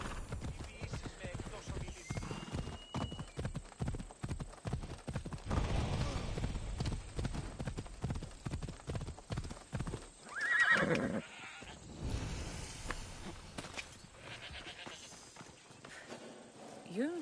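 Horse hooves clip-clop steadily while riding in Assassin's Creed Odyssey, with a brief whinny partway through, the galloping rhythm close and loud under game dialogue.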